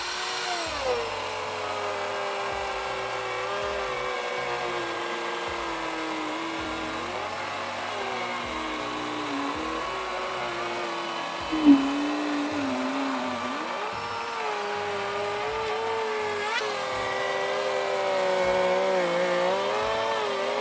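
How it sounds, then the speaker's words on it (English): A motor roars continuously at close range as dust is blown out of a freshly routed groove in an ACRE column wrap board, its pitch wavering and dipping, with one brief knock midway. "He's gonna kind of blow the dust away."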